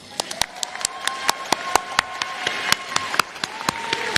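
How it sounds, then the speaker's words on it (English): Sparse clapping at an undergraduate commencement ceremony, a few sharp, distinct claps spaced unevenly over a quiet hall, faint and thin rather than a full wave of applause. "That deserves some applause."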